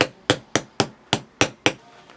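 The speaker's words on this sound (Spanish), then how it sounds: "lo vamos a golpear con un martillo" A hammer strikes steel sheet laminations, driving them into place in a homemade 500 W inverter transformer. Seven crisp, evenly spaced metallic blows sound loud and close, with a quiet pause at the end.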